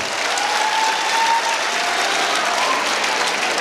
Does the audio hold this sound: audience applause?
yes